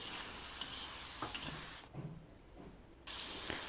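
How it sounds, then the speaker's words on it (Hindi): Chicken coated in masala paste with water fries in a karahi, giving a steady sizzle and hiss with occasional stirring clatter, and the sound briefly quiets midway before the sizzle returns. "इसको भी हमने यहाँ 2 से 3 मिनट फ्राई करना है।"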